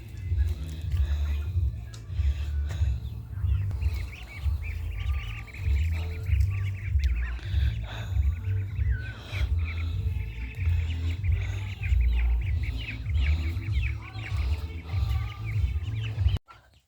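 Newly hatched ducklings peep softly and repeatedly as they leave an incubator, with faint high chirps over a loud, steady low machine hum.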